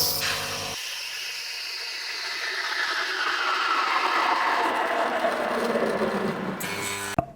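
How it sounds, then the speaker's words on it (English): A steam wand steams milk for hot chocolate, giving a loud, close, continuous hissing rush that shifts in tone as the milk heats over several seconds, then cuts off with a short clack. "So let's go on and steam the milk."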